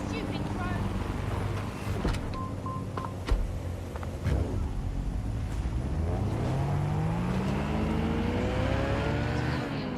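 Car drives through city streets in the video game Watch Dogs Legion, a continuous engine drone with rising and falling pitch, along with game effects and beeps, while someone talks over it.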